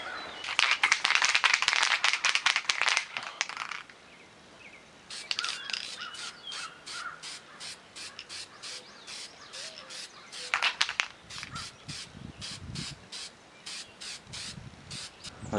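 Aerosol coating sprayed onto a Suzuki TL1000 motorcycle head gasket: loud hissing bursts in short rapid pulses, a long run, a pause, then more quick repeated sprays, close and alone with faint background sounds.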